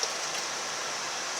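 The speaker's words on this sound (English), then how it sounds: "Just going to add more apple juice" Apple juice is poured steadily into a homemade deer scent attractant mixture, a continuous broadband liquid rush with no breaks across the short stretch.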